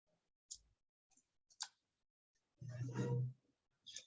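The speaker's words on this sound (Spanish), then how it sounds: "entonces doy clic en aceptar" Sharp computer mouse clicks while working in an Excel spreadsheet, several quick separate taps spaced across a few seconds, with a short stretch of speech in between.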